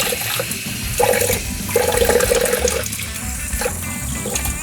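Water gurgling and rushing through a Cadillac Seville's cooling system and heater core during a flush, in uneven surges, close by, with a constant low mechanical hum underneath.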